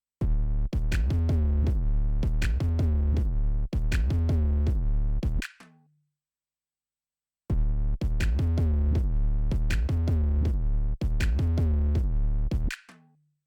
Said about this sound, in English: when we go into this kind of like really distorted section to, just finish off the song